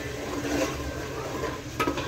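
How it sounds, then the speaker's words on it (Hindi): Ground tomatoes and green chilies fry in a pan with a steady soft sizzle and occasional stirring scrapes, plus a brief clink of a utensil near the end. "अब हम इसे डाल के अच्छे से भून लेंगे फ्रेंड्स"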